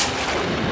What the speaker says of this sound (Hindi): ये तो गोली की आवाज है